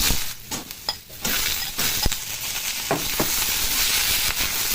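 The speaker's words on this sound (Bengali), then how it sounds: "আলুটাকে কিছুক্ষণ ভেজে নেবো।" Chopped potatoes sizzling in hot oil with a steady frying hiss, broken by several sharp scraping stirs of a utensil against the pan.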